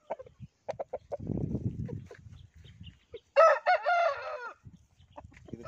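A red Mayla fighter rooster of the Garudu Mayla type crows once, loud and close, a rising then trailing call, with scattered clucks, rustling and other farm noises around it.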